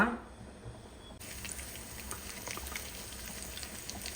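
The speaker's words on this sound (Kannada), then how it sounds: "ಒಳ್ಳೆ ಕುದಿ ಬರ್ತಾ ಉಂಟು" Liquid boiling in a pot, a soft steady bubbling hiss with faint pops, close and continuous after a short clatter at the start.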